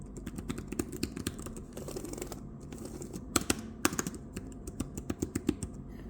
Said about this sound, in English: This year, the keyboard is just like the last year.